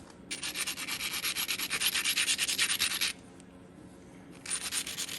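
Short rapid scraping strokes of edge work on a flint arrowhead from Flint Ridge, a dense rasping burst of about three seconds, a pause, then another short burst, close and without speech.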